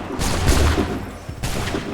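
Musket volley from a line of soldiers in Assassin's Creed III: a ragged crackle of overlapping shots with deep booming body, fading and then a second burst of gunfire, loud and close.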